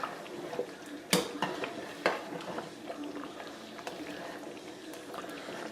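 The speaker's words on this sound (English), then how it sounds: "Take that same slotted spoon I've been using. Just kind of mush them down a little bit." A slotted spoon mashes potatoes in a boiling pot of potato soup, with a couple of sharp metal knocks against the pot amid soft wet squelching and bubbling, close but fairly quiet.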